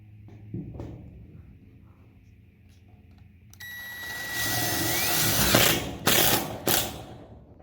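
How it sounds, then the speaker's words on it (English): A power drill whirs up and drives a screw into corrugated steel siding for a bike shed, a loud grinding buzz of a few seconds ending in short bursts, after quieter handling sounds. "Let's see if I can hold this and drive a screw at the same time."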